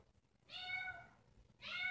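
A stray cat meows twice outdoors, two drawn-out, clear cries separated by a short pause, fairly faint and with no talk over them.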